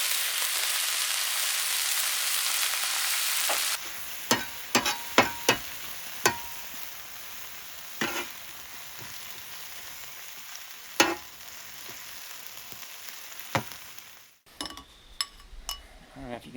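Steak and onions fry on a Weber Q griddle as balsamic vinegar goes in: a loud hiss at first, then quieter sizzling with scattered sharp pops and clinks of a utensil.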